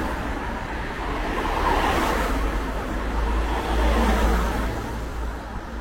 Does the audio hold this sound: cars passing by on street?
yes